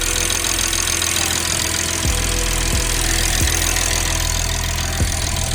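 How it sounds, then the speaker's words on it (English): A BMW 440i engine idling after injector and high-pressure fuel pump replacement, a steady close mechanical hum with a few faint periodic ticks, no talking. "Now the car is idling, running."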